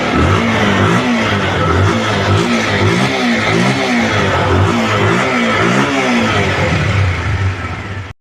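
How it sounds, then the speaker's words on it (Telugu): A Bajaj Pulsar motorcycle with a pickup problem runs close by, its engine revving loudly in repeated rising and falling surges over a constant rumble before cutting off at the end. "ఇప్పుడైతే మీకు బండి స్టార్ట్ చేసి చూపించాను."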